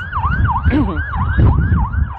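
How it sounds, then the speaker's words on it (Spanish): Wailing emergency sirens sound in Jerusalem, a rising and falling two-tone wail cycling steadily and loudly over low traffic rumble, with no talk over them. "En este momento hay unas sirenas que suenan aquí en Jerusalén."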